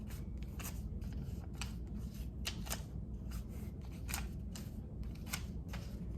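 Paper word cards being shuffled and mixed by hand, a run of soft, repeated rustling flicks over a steady low background hum.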